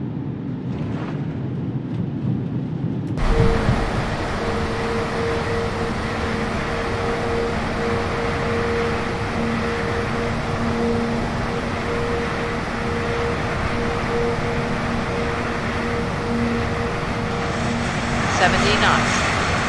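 An Airbus A320neo in Microsoft Flight Simulator engages reverse thrust on the landing roll. After a quieter start, a loud roar surges in abruptly and holds as a sustained, steady rumble with a faint tonal whine.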